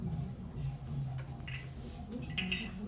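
A spoon clinks a few times against a dish while paste is stirred, with small metallic taps bunched near the end over a low, steady background hum.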